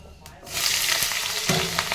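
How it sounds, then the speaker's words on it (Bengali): Cut potatoes hit hot oil already seasoned with whole cumin and dried chili, bursting into a loud, close sizzle after a short quiet start and frying steadily with a stir. "আলুটাকে দেব, দিয়ে ভাজা করব"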